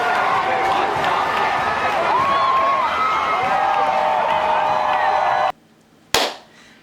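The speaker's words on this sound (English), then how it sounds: "Clap for them." A large crowd claps and cheers for the U.S. women's World Cup champions in a dense, steady roar of applause, which cuts off abruptly before a brief sharp noise at the end.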